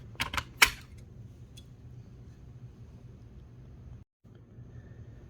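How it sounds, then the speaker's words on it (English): A display mounting bracket is popped off inside a 2019 Infiniti QX60. A few quick, close plastic snaps come first, followed by a steady low background hum. "we should be able to pop the mounting bracket off."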